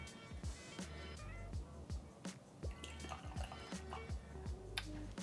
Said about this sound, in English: Oh, you're going to pour them all, okay.